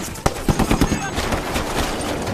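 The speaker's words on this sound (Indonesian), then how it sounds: "Sersan menggunakan senjata mesinnya untuk memukul mundur pasukan musuh" A sergeant fires a machine gun in a film battle scene to drive back enemy troops, a rapid burst of loud close shots followed by a denser rattle under background noise, with voices mixed in.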